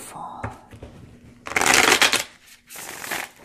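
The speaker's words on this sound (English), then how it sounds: "let's just shuffle, because that's the fun part for me" Tarot card deck being shuffled by hand close up, a couple of short riffling bursts then a longer dense flutter and a final riffle, with faint background noise and no talk.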